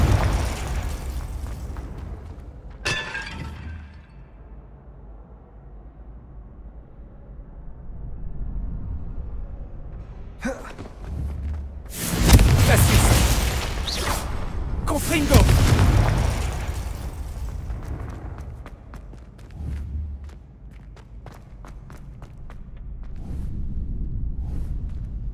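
In the Hogwarts Legacy video game, blasts from the Confringo spell erupt as loud, booming explosions in a cluster mid-sequence, with fainter bursts and crackles before and after over quiet ambience.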